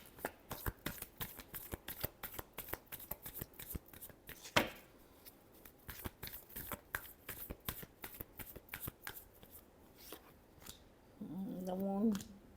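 Tarot cards are shuffled in a long run of crisp, rapid riffles and slaps close by, ending with a brief voice near the finish.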